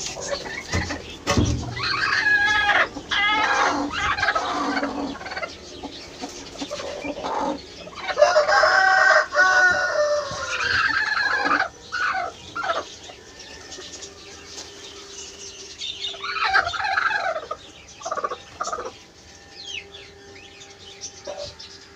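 Brooding hens sitting on eggs on hatching day, clucking and calling in close, irregular bursts with occasional louder squawks and crowing-like cries between quieter pauses.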